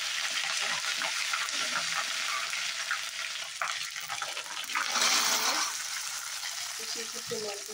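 Potatoes frying in hot oil in a home kitchen pan alongside ginger-garlic paste, a steady close sizzle and crackle with occasional stirring scrapes, continuous and fairly loud throughout.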